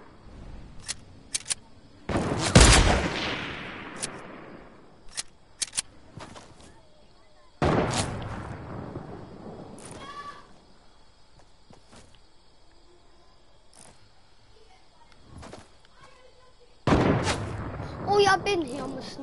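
Sniper gunfire in a PS4 game: a few sharp loud cracks with decaying tails spaced seconds apart, amid small clicks and faint ambient background.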